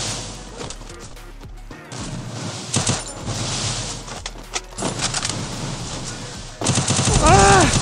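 Shotgun blasts and rapid gunfire ring out during a chaotic multiplayer shooter match, with loud bursts toward the end over background game noise and some voice chatter.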